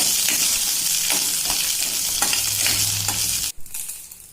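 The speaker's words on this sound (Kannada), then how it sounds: "ಮತ್ತ ಒಂದ್ ಸ್ವಲ್ಪ ಎಣ್ಣೆ ಹಾಕೊಂಡ್ರಿ ಇದ್ರಾಗ. ಮತ್ತೆ ಇದನ್ನ ಒಂದು 2 ನಿಮಿಷ ಚಂದ ಫ್ರೈ ಮಾಡ್ಕೊಂಡ್ರಿ." Green chillies sizzle steadily in hot oil in a kadai, a loud, continuous frying hiss broken by periodic stirring scrapes, ending abruptly as the pan goes quiet.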